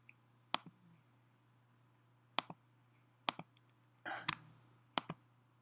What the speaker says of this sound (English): So hit command and then click it.